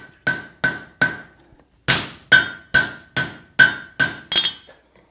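Light hammer blows setting a forge weld on a hoe ring out as sharp metallic clangs, two, then a pause, then a rapid string of seven evenly spaced strikes, close and clear without talk.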